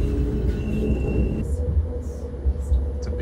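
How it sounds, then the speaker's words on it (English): A tram on the coastal line near Oostende rumbles steadily along the rails, a low continuous rolling drone with a faint tonal whine and brief higher squeals, heard from on board. "Such a nice tram line here."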